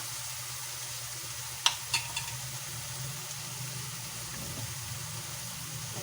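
Filipino shrimp paste (bagoong alamang) frying in added cooking oil, a steady soft sizzle throughout with a few sharp spatter pops near the start, no talking.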